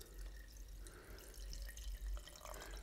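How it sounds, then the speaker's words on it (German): Water being poured back into a glass used for propagating Monstera and Philodendron cuttings, a soft continuous trickle and splash with small dripping sounds, close and quiet. "So, und dann gieße ich das jetzt wieder rein hier."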